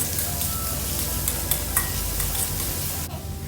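Chopped onion, ginger, garlic, green chili and curry leaves fry in oil with a continuous close sizzle and occasional utensil clicks as they are stirred. The sizzle drops off abruptly near the end.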